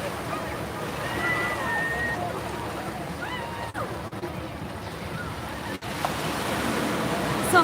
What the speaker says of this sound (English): So behind me is the ocean.